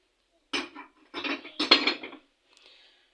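A casserole pot clatters as it is set down for a Moroccan-style onion soup: three quick metallic clanks and scrapes in close succession, then a faint ringing tail.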